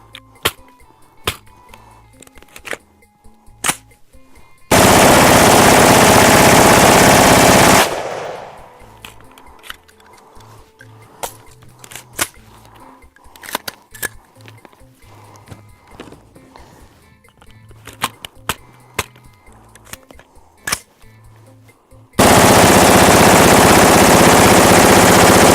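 An AR-15 rifle with an X Products 50-round drum fires in two long, loud, continuous bursts, separated by a stretch of scattered clicks and handling sounds, with no talking.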